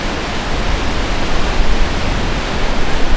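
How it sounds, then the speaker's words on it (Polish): Strong wind blows across a steep mountain trail in the Beskid Mały, a loud, dense, continuous rush that buffets close up with slight surges and no speech. "No wieje dosyć konkretnie."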